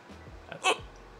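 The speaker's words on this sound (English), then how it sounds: "I'm trying to control these hiccups" A person with hiccups lets out one short, sharp hiccup during a live stream, a brief, fairly close burst standing out from quiet room sound.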